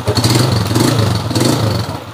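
A Honda TMX155 motorcycle engine runs close up with a rapid, pulsing putter and a slight mechanical clatter, holding a steady beat for a couple of seconds.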